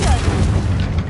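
A Confringo fire spell explodes in Hogwarts Legacy, a single short, deep boom with a low rumbling tail, loud and close.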